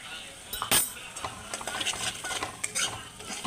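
Spices and chilli powder sautéing in mustard oil for peas pulao, a soft sizzle broken by frequent clinks and scrapes of a metal spoon against the pan, fairly faint, with occasional voice nearby.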